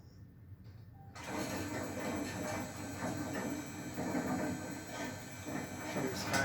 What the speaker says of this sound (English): Here's our elevator again.